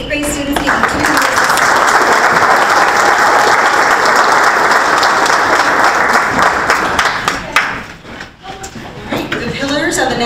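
An audience applauds 8th grade students at a National Junior Honor Society induction ceremony. Loud, dense clapping fills most of the clip, then fades near the end as voices come back in.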